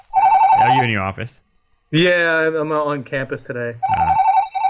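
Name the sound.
office telephone ringing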